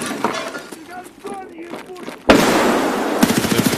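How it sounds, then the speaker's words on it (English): A grenade detonates in the video game Escape from Tarkov with a sudden loud, broadband blast after a stretch of voice and game sounds. Rapid bursts of gunfire follow on top of the lingering roar. "I'm tossing a grenade."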